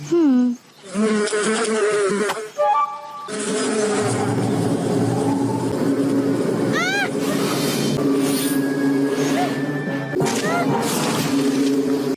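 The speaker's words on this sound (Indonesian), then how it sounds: "ia pun diganggu oleh bunyi seekor tawon" Wasps buzz loudly and continuously, with whining wingbeats rising and falling as several fly about near the listener.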